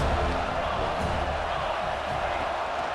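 Stadium crowd roaring steadily behind the defense on a third down in a college football video game, a dense, loud, continuous wall of cheering with a faint bounce or thud in the mix.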